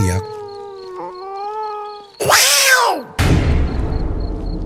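A cat meows with a rising, wailing tone, then lets out a loud, harsh yowl that sounds almost like a crying person, followed by a noisy burst.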